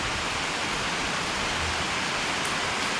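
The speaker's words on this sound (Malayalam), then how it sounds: "നല്ല മഴയും പെയ്തു തുടങ്ങി." Heavy rain pours steadily at night, a dense, even hiss with no breaks or voices, close and constant throughout.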